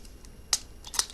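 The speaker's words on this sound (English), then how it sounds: "I'm going to spritz this now." Two short, sharp hissing bursts from a spray bottle misting water onto purple flowers, close by and fairly quiet, with a faint softer puff before them.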